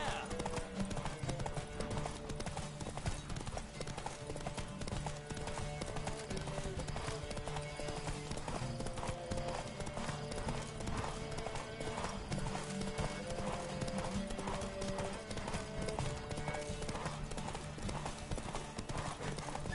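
Rapid, steady hoofbeats of a galloping horse, continuous and fairly close, under a dense wash of music and rushing noise.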